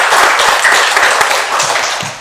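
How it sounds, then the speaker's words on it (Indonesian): Audience applause for a regional culture and tourism official during a podcast on the Jember Fashion Carnival, a steady wash of clapping lasting the whole short stretch at even loudness. "Tepuk tangan untuk"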